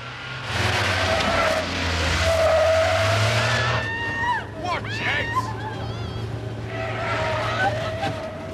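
A yellow van's engine roars and tires screech in skidding squeals as it pulls away, with a steady low rumble and voices shouting underneath.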